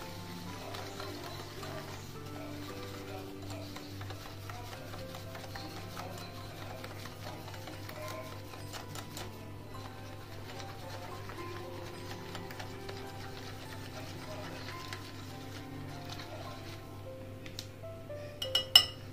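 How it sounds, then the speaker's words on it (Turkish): A spoon stirs a spice and sauce mixture in a bowl for oven-baked cauliflower, making faint, steady ticking clinks throughout that grow a little louder near the end. "Ve bu karışımı güzelce karıştırıyoruz"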